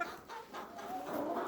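Chickens clucking in a coop with deep litter, a brief burst of close, agitated clucks and squawks from a hen being pecked by another.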